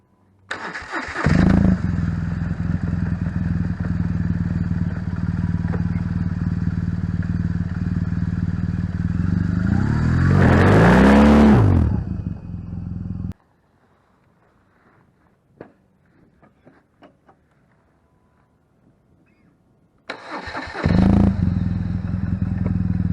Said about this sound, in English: I'll show you just dumping the clutch right here